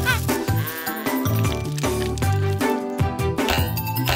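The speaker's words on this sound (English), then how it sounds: "Felipe, she's sure to win the fluffiest sheep contest." Cartoon sheep bleating in a children's animated show, a bright, voiced call that repeats over a full, busy music bed throughout, close and fairly loud.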